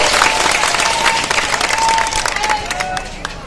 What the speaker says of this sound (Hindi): आप सबसे मेरी विनती है कि गर्मजोशी से ताली बजाकर उनका हार्दिक अभिनंदन करें